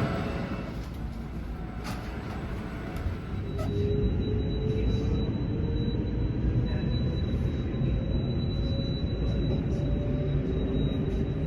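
A train rumbles loudly at Arlanda Central Station. The low rolling noise swells partway through and a steady high tone carries on above it, with no talk.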